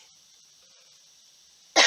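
After a stretch of quiet, steady hiss, a single sharp cough bursts out close by at the very end.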